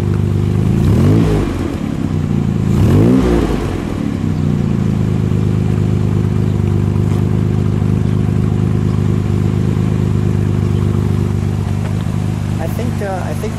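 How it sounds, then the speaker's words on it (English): A 1957 Aston Martin DB2/4 Mark III Saloon engine revs twice in quick succession early on, then settles into a steady, rumbling idle, close and loud. "Let's give it just a rev, shall we?"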